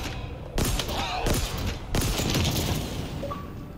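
Rapid bursts of gunfire in the Xbox game Halo Infinite, loud and close with two sharp onsets followed by sustained crackling volleys and faint mechanical chimes near the end.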